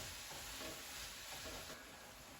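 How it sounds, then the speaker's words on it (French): Minced meat for a hachis parmentier is stirred as it fries in a pan, giving a soft, steady sizzle with light scraping that continues evenly throughout, close but quiet, with no talking. "on continue à mélanger et à empêcher que la viande s'agglomère"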